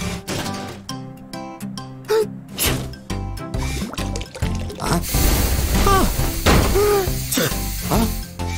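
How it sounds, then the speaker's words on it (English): Oil pours into a cartoon tow truck's engine: a run of wet glugging drips and squishy liquid splashes with bubbly, rising plops, layered over playful background music. "Let's oil the engine first."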